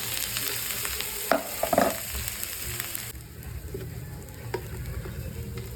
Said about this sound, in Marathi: अशा प्रकारे ग्राइंड करून घेतल्यानंतर आपण तेलात टाकलेला आहे ठेचा।